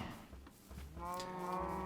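Cows in the Minecraft video game moo in a low, drawn-out bovine call that rises clearly near the end, heard alone over a quiet background.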